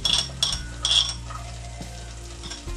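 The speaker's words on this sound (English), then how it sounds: "As it starts to foam, you're going to add your chopped onions." Chopped onions hit foaming butter in a pan for a vegetarian risotto, giving a soft, close sizzle with a few brief clinks and stirring scrapes and no talking.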